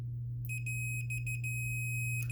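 A multimeter in continuity mode, used to test a Gigabyte RTX 3080 Gaming OC graphics card, gives a steady high electronic tone that drops out in short gaps as the probes touch, then sounds again at the end, over a low constant hum.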